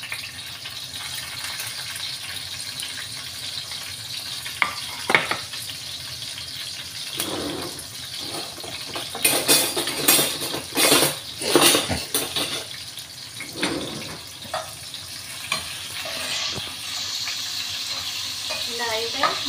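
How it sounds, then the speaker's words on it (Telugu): Onion pieces frying in oil with seeds in a pan, a steady sizzle with stirring and utensil clinks on the pan, busier and louder in the middle, no talking. "వీటిలోకైతే ఉల్లిపాయ ముక్కలు అయితే వేసుకున్నాము."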